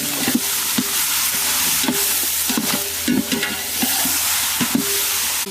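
Chicken biryani is stirred in a large pot at a group cookout, a loud, dense sizzle with rhythmic scraping strokes of the ladle close by, without talk.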